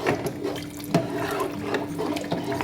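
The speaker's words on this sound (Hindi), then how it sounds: "हमें घोल डालना है और इसको चलाते रहना है।" A flour-and-water slurry is poured into a pot of beef nihari while it is stirred, giving a steady close liquid splashing and sloshing with soft clinks, no voices.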